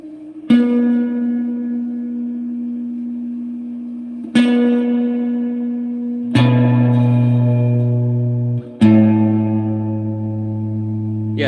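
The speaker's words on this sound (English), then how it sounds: "you can really hear the real spring reverb doing it a lot" Sustained electric guitar notes ringing out one after another, each struck note followed by a wobbly, echoing tail from a real spring reverb.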